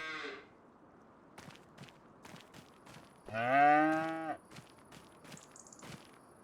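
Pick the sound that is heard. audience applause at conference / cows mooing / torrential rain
cows mooing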